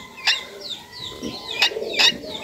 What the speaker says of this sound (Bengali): এই যে দুটা পাখি দেখতে পাচ্ছেন, এগুলোকে কেউ তিতির পাখি বলে, আবার কেউ চিন চড়াই বলে।